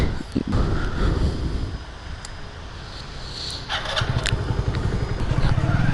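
A Hero HF Deluxe commuter motorcycle being ridden, its engine droning steadily throughout with heavy wind buffeting the microphone and a few clattering knocks; no talking.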